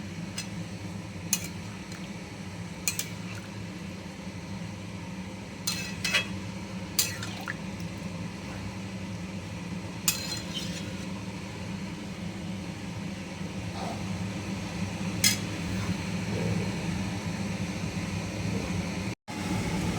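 Boiled and fried potatoes going into a pan for vegetarian aloo dum, with scattered short clinks and splashy drips over a steady low kitchen hum, no talking.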